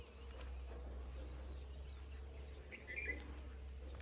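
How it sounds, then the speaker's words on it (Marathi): Birds chirping outdoors among trees, with a few faint, brief calls over a steady bed of insect buzzing and low background hum, distant and quiet, no speech. "पक्ष्यांचा किलबिलाट चाललाय."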